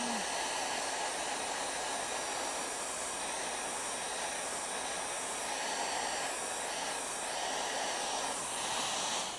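A hair dryer blows steadily over wet watercolour paint, a loud continuous whooshing roar that holds at the same level for the whole stretch.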